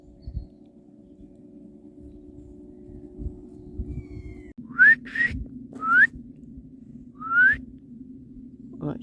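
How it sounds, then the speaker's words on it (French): A person whistles three short rising notes toward a heron at a pond in Brittany, fairly close and distinct over a low steady outdoor hum. "j'ai beau siffler, il veut pas partir"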